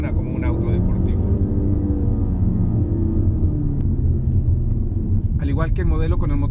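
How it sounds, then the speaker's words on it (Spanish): A 2018 Ford Mustang engine on the move along Latigo Canyon Road in California, a steady, loud low rumble with no let-up, running under continuous talking. "todavía suena como un auto deportivo."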